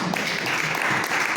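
An audience applauds Alberto del Castillo at a student-organization memorial event, a dense, even wash of clapping filling the short moment with no voice over it.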